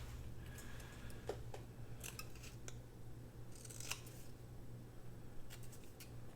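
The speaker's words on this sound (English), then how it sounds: "Just going to trim it off." Scissors trimming a paper label for a journal folio, giving a few faint, crisp snips and paper crackles close by over a low steady hum.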